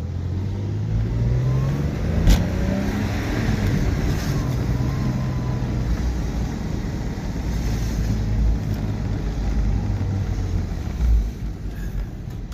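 A car engine hums steadily from inside the cabin during a test drive, with low rumbling road noise and wind rushing throughout and occasional bumps, no talking.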